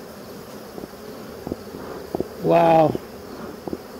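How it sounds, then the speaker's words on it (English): Bees swarming around a hive in August, a steady close buzzing drone throughout, broken once by a short exclaiming voice. "There's like just a ton of bees."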